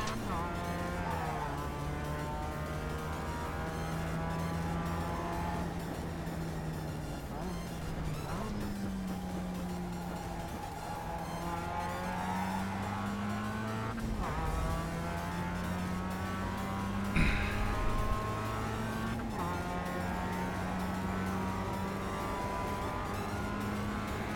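Mazda race car on a track, steady engine drone with shifting pitch as it brakes and corners, brief tire squeal and skid noise mixed in, continuous and close throughout.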